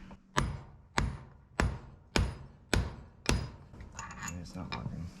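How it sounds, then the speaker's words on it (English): A Thor hammer strikes a locking lug nut resting on a vise six times in a steady rhythm, each blow a sharp, close metallic crack, followed by softer tinkling metal clatter. "he's going to give it the good old whackaroo here with the Thor hammer"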